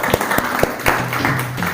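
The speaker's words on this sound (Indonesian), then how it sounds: "Tepuk tangan dulu untuk sekali lagi buat kita" Sparse clapping from a group of students in a classroom, a handful of distinct claps spread irregularly over under two seconds, with faint voices in the background.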